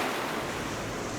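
Ocean surf at Morjim beach in Goa, a steady, loud wash of breaking waves with wind noise, continuous and unbroken with no voices.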